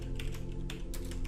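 Quick bursts of keystrokes on a computer keyboard as an address is entered, soft close-up clicking in a few uneven clusters with no talk.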